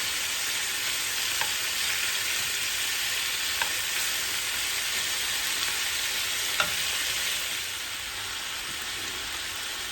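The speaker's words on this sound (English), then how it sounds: "So we're gonna cook our onions for a couple minutes." Onions frying in a pan for a beef stew, a steady close sizzle with faint occasional clicks of a utensil, growing a little quieter near the end, with no speech.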